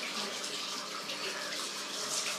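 Cold water runs steadily from a tap in a broadband rush with no break, close and fairly loud, as a toy is held under the stream.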